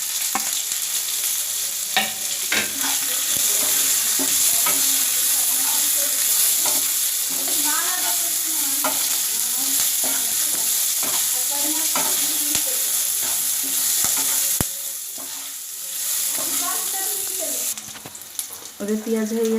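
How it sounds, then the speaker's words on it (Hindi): Chopped onion and asafoetida frying in a pan for an okra dish, a steady close sizzle with spoon scrapes and clatters while someone talks over it; the sizzle eases briefly near the end. "हेंगु नउची एवं कटा पियाज पके दउची"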